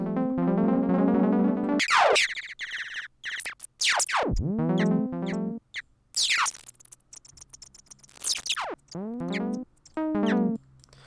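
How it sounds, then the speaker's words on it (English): Guitar notes through a Ripple delay that stutters and glitches when its time setting changes, with repeating fragments and swooping pitch sweeps, loud and up close. "And so you get this really cool glitch effect"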